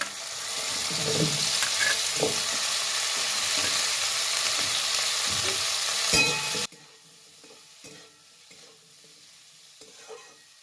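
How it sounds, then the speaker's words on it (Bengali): Cauliflower dropped into a hot pan for a vegetarian moong dal sizzles loudly with stirring scrapes for several seconds, then the frying noise falls sharply to a faint, quieter simmer with occasional clinks. "এবার ফুলকপিটা দিয়ে দিচ্ছি"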